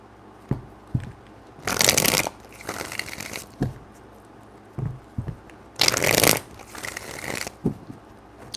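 Tarot reading playing cards are shuffled twice in crisp riffling bursts, with soft taps and knocks of the deck between them, close and clear.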